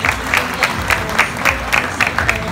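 Applause from a crowd at a school ceremony in Mexico marking the opening of a school breakfast room, with steady rapid clapping and rhythmic bursts that rise and fall. A few faint voices sit beneath the clapping.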